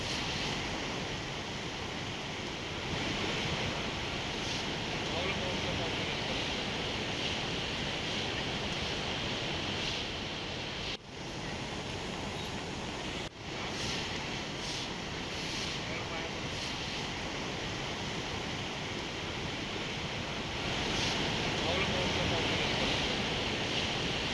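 Constant roar of rough sea surf with wind buffeting the microphone, steady and broad for the whole stretch, with brief dips in the noise.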